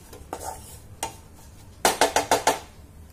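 A spoon clinks and scrapes against a pan while a dates and dry fruit laddoo mixture is stirred, first in a few scattered knocks, then in a quick run of five sharp metallic taps.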